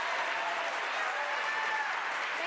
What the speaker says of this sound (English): Now you can feel free to give the candidates a round of applause.